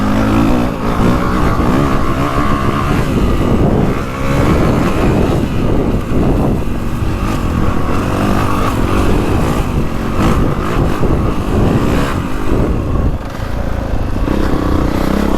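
A 2025 Honda CRF450R Works Edition dirt bike revs hard while being ridden, its engine note loud and close, rising and falling with throttle over steady wind buffeting.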